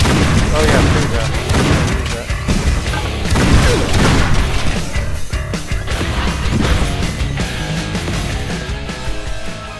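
Shotgun blasts and booming impacts in the shooter game Painkiller Hell & Damnation, dense and loud over game music and effects, with repeated heavy thumps across the whole stretch and talk mixed in.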